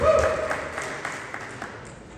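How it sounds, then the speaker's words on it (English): Applause from an audience at a Bronx violence prevention meeting, honoring the district attorney; a short burst of clapping that starts fairly loud and fades over about two seconds. "please get a round of applause to our district attorney"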